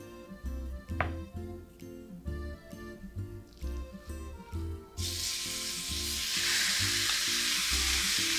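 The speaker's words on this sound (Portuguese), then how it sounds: "Agora eu vou colocar ela todinha aqui na panela e deixar ela dourar." Ground beef browns and sizzles in a hot pan for taco filling, a steady frying hiss that swells loud and dense halfway through as more meat hits the pan, with faint stirring.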